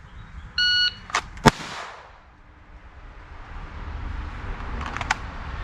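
A single pistol shot at an outdoor shooting range, preceded by a short electronic shot-timer beep, then quiet ambient air afterward with faint distant pops.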